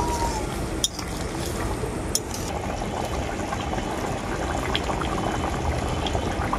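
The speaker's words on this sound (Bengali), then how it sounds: "আবারও আমি ঝোলটা খুব ভালো করে ফুটিয়ে নেব।" Egg gandharaj curry gravy simmering to a boil in a pan, with a continuous bubbling, watery churn up close and a few faint clicks.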